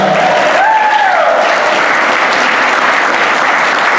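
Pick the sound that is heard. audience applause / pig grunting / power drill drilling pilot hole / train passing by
audience applause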